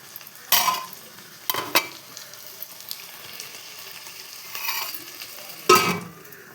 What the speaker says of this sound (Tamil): நல்லா வதக்கிற வரைக்கும் மூடி வச்சு,